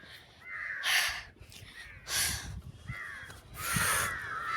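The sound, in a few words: crows cawing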